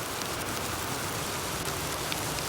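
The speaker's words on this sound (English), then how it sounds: "The rains begin to fall." Steady rain falls on a cold, wet late-autumn day in central Wisconsin, a dense, even hiss of drops with no gaps, close and moderately loud, with no voices.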